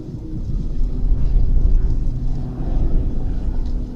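An aerobatic display plane pulls up at 45 degrees into a flick roll, a loud, low engine rumble that swells and fades in waves over a few seconds, with no speech.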